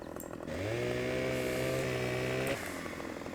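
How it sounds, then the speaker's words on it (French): A chainsaw in the video game Farming Simulator 15 snarls into life and holds a steady buzzing drone for about two seconds before cutting off, over a faint background bed. "On va prendre la tronçonnette."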